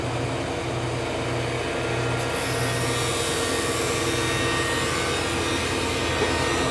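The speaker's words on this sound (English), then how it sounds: "We're basically skip planing this." Thickness planer skip-planing wooden boards, a steady, loud machine drone with a constant whirring hum that runs unbroken from start to finish with no voices.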